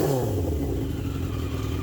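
A 40-year-old Yamaha XJ650 motorcycle engine runs through a baffled exhaust, giving a steady, close, loud mid-pitched drone whose note dips slightly as the revs settle.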